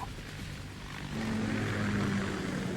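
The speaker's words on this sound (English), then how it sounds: "Ka-60 Kasatka. Kasatka? Kamov chopper, right?" A Kamov Ka-60 Kasatka helicopter in the Metal Gear Solid 2 tanker chapter gives a droning engine and rotor hum that swells louder and steadier partway through, with no voices over it.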